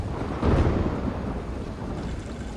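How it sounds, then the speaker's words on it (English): Rolling thunder from a night lightning storm over a caravan in Mortal Kombat 1, a loud, continuous low rumble that swells early on and then holds steady, with no voices. "Lightning flashes over Shang Tsung's caravan at night."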